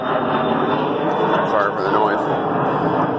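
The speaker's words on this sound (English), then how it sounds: "There's some airplanes." Airplanes pass overhead at a rural farm, making a loud, steady broadband roar that fills the whole stretch while someone talks over it.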